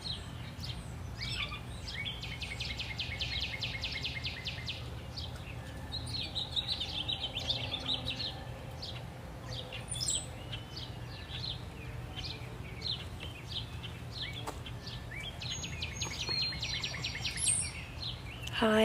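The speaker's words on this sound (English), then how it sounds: "So if I stop talking, you can hear the bird sounds that I use." Wild birds sing and chirp in a steady outdoor chorus, with thin high trills and calls coming and going at a moderate distance over a constant low ambient hum, and no voices.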